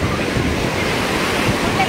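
Sea waves rolling onto the beach at Puri, a steady broadband wash of surf with wind noise on the microphone, continuous and fairly loud throughout.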